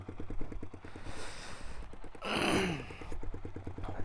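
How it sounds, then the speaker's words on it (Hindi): Loud aftermarket motorcycle exhaust, a close, rapid idle thump that is briefly swamped by a rushing burst of wind-like noise before the steady idle pulse returns. "इतनी साउंड है भाई इसकी, फुल लाउड बाइक।"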